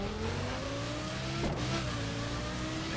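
A Lamborghini in the racing game The Crew revs its engine, the pitch climbing steadily in a loud, continuous drone with a brief gear-change dip midway, and no talking.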